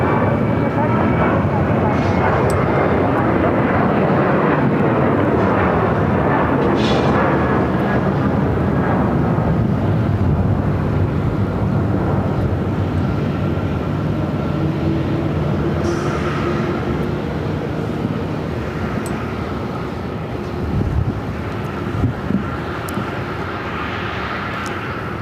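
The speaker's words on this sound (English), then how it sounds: "That was WestJet Flight 1463 heading to Edmonton, Canada, 737-800" A WestJet Boeing 737-800 jet takes off from an airport runway, its engines producing a loud, sustained roar that sweeps and slowly fades over about twenty-five seconds, with a faint clatter near the end.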